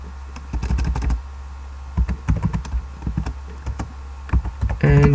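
Rapid clattering keystrokes on a computer keyboard as code is typed into a string format example, bursts of taps with short pauses, close and fairly loud over a low steady hum.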